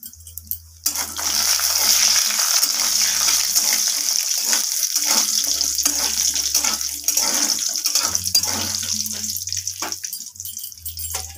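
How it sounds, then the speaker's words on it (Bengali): Black gram lentil dumplings (bori) fry in hot oil with a pinch of salt, a continuous close sizzle and bubbling broken by scraping stirs, with brief low hums in the background. "এই বড়িটাকে আমি তেলের মধ্যে একটু লাল লাল করে ভেজে দেব"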